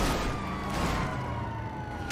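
Police car sirens wail in GTA V Online during a chase, a sustained, slowly falling siren tone buried in loud engine and road noise without talk.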